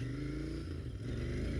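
Royal Enfield Interceptor 650 motorcycle engine running steadily at a low, throbbing idle, its deep rumble constant and close for the whole stretch, with no talking.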